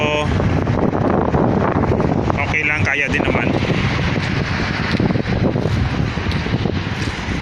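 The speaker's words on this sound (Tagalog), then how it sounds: "Medyo mahangin" Strong wind buffets the microphone in a constant roar while a person talks briefly over it, outdoors on a cold winter day in Saudi Arabia.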